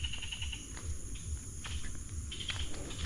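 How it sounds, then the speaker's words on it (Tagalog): Birds chirp noisily outdoors at a rural camp, scattered high calls rising and falling over a low, uneven background rumble, fairly close and moderately loud. "Ang ingay na mga ibon."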